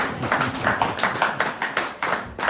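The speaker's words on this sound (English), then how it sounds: "Round of applause for Mr. Nicholson." Scattered clapping in a hall of people at an official regional gathering, sharp irregular claps fairly close, lasting a couple of seconds.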